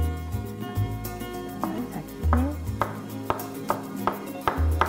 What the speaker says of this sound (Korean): 요거를 작게 썰어 주실 거예요